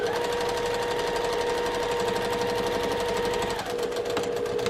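Sewing machine stitching steadily through foam layers, a close, continuous rapid mechanical hum and clatter with an even rhythm throughout, no voices.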